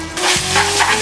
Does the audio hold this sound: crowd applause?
no